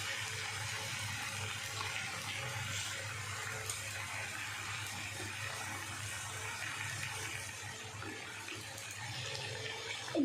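Water is poured into a cooking pan over a sautéed spice mixture, making a steady rushing pour that runs for about ten seconds at an even level.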